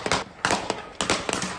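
Gunfire cracks outside a burger restaurant in Memphis during a shootout, several sharp bursts of reports in quick irregular clusters, moderately loud and somewhat distant.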